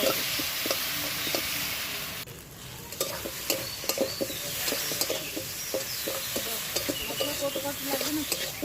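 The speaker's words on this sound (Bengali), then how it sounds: "আমি মশলা দিয়েছি মশলা দিয়ে কিন্তু আমি সুন্দরভাবে এই যে কষিয়ে নিচ্ছি" Spices frying and being stirred in a pan for a green tomato and small fish curry, with a constant sizzle and repeated close scraping spoon strokes in an irregular rhythm, briefly quieter near the start.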